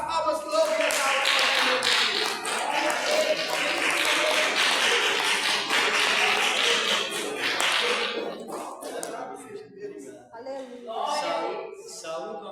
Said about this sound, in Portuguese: Vamos receber o servo do Senhor com as palmas que louvam e exaltam